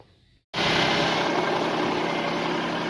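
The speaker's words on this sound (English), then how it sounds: "now we have the engine running with the battery installed" A 2003 Nissan Frontier's VG33E engine with a new alternator and battery fitted bursts into a steady, loud idle after a brief quiet start, running evenly and continuously.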